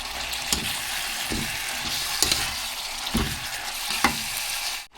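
Carrots stir-fried in a hot wok for Singapore-style noodles with vegetables and meat, a steady close sizzle broken by several sharp scraping stirs at regular intervals.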